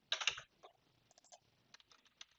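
Computer keyboard typing comes through as a quick run of crisp key clicks, followed by a few sparse, faint taps in a quiet room.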